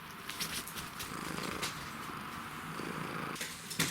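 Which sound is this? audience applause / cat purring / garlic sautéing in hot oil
cat purring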